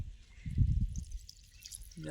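Water runs and drips into a plastic bag at a pump, making a short, soft splashing trickle close by.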